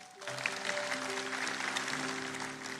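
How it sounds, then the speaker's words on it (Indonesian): A church congregation breaks into applause during a sermon, a steady wash of clapping that starts suddenly, with sustained keyboard notes ringing beneath it. "Siapa yang diberkati, berikan tepuk tangan untuk Tuhan"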